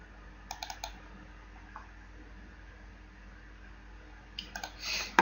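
Mouse clicks while working in Alizé pavement-design software on a computer: a few quick, close clicks near the start and another short cluster near the end, with faint room noise between.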